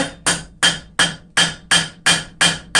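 Forged steel daffodil leaf seams are hammered together on an anvil horn, nine sharp, ringing strikes in an even, brisk rhythm, each decaying quickly, close and loud with no voices.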